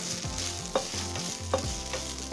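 Mint leaves frying in a hot pan for Indian pudina chutney, with a steady sizzle, a low background hum and a few sharp spoon clinks against the pan.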